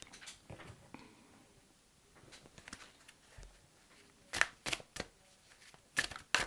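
Tarot cards laid out on a surface, with soft flicks and slaps at irregular intervals and a few sharper card snaps toward the end, close and quiet, with no talk.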